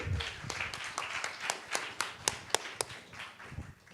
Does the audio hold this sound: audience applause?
yes